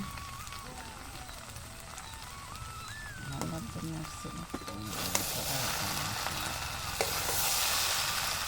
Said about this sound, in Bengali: এবার ভেজে রাখা চিংড়ি মাছগুলো দিয়ে দেব দিয়ে দিলাম